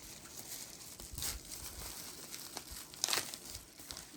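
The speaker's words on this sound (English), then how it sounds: "I'll just tear it open, I guess." A plastic package from a Japanese game shop, holding a JVS-to-controller adapter, is torn open by hand with a few crinkling rips and rustles, the loudest bursts near the start and after the middle, fairly close and alone.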